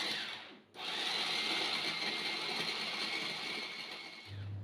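Electric chopper machine with a blender blade whirring through peeled garlic, a steady high motor whine that starts after a short cutoff, runs evenly for several seconds, then drops to a lower hum.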